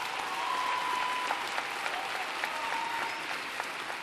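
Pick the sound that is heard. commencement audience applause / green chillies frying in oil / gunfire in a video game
commencement audience applause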